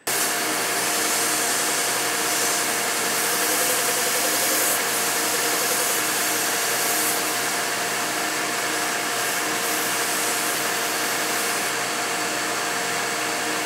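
A belt grinder fitted with a 220 grit belt shapes wood for a cleaver made from a circular saw blade, giving a loud, steady, unbroken whirring roar close by, with no voices.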